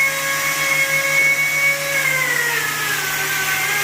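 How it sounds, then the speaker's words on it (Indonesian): An angle grinder fitted with a wool pad finishing a carved wall calligraphy panel about three meters wide, a loud continuous motor whine whose pitch sags and drops partway through, heard alone. "Selanjutnya kita lakukan finishing dengan menggunakan gerinda berbahan mata wol."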